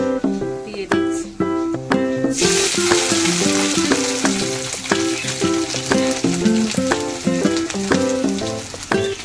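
Banana stem being stirred in a frying pan with a steady sizzle that grows louder and more hissing once the stem goes in, under rhythmic background music throughout.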